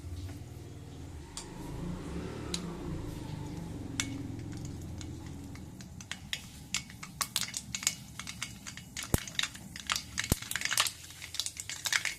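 Mustard seeds pop and splutter in hot oil while Kanchipuram idli is being made, with sharp, scattered crackles that grow busier after a quieter, rumbling start.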